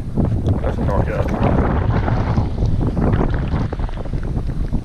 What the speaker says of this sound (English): We're out here sailing in the wind